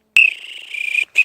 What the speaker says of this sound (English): My whistle is actually, it's a P-less whistle.